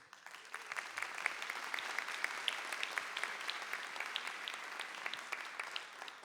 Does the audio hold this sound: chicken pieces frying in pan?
no